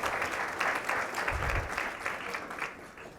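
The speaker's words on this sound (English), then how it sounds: "Ladies and gentlemen, how about a good round of applause for Purva and Danielle?" An audience claps for two speakers on a stage at a business conference, a dense, steady round of applause that stays fairly soft and distant and fades slightly toward the end.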